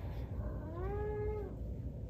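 A cat gives a single clear, rising-and-falling meow lasting under a second, moderately close, over a quiet room background.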